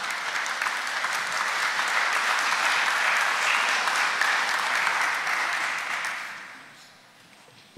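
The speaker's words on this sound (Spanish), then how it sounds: "Lo recibimos con fuertes palmas" Audience applause at a cultural forum welcoming the author of a book onto the stage, strong and sustained clapping that swells, holds, then fades away near the end.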